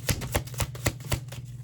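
A deck of oracle cards shuffled by hand gives a quick run of about six crisp, evenly spaced riffling taps, close and fairly soft, with no voices.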